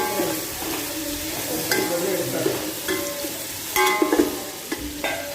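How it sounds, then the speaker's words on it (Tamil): Onions sauté toward golden brown for a hotel-style mutton biryani, a continuous close sizzle overlaid with repeated spatula scrapes and occasional clinks against the pan. "கோல்டன் ப்ரௌன் வர வரைக்கும் நல்லா வதக்கி விடுங்க"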